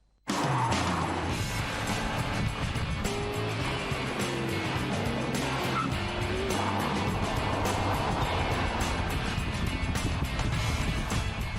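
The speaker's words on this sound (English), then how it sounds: "It's got a big lollopy V8 engine in there, which isn't overly responsive." A Mangusta X80 car with a big V8 engine driving, a steady loud roar that holds throughout with rumbling low tones and passing road noise.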